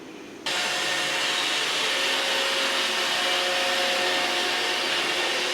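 A Roomba robot vacuum cleaner switches on abruptly and runs with a steady, close whirring hum and a faint high whine that continue unbroken.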